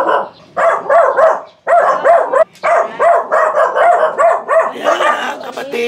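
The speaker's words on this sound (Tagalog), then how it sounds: "Ay, ingay ng aso." A dog barks repeatedly in a rapid, loud series of close yaps, with brief pauses between bursts.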